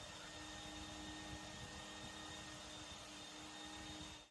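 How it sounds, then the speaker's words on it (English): Inexpensive consumer carpet cleaner machine running over carpet, a steady, even whirring drone with constant loudness throughout and no talk, cutting off at the end. "Then run the machine, watching the carpet gets cleaner with every pass."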